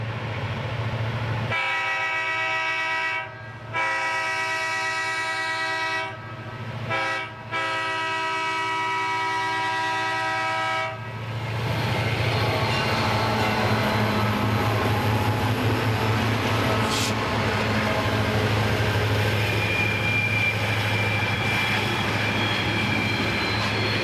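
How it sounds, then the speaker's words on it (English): A B&O freight train climbing a steep grade near Austin with helper locomotives on the rear, including Seaboard Coast Line, B&O and Chessie units: a loud horn sounds in several long blasts, then heavy, rumbling diesel engines and rolling cars labour steadily close by. "Now the train at Austin has the helpers on the rear with a better pace."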